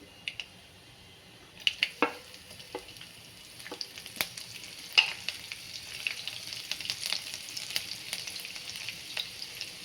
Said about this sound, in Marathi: आता हे चांगलं जिरं हे चांगलं तडदड करायला लागलं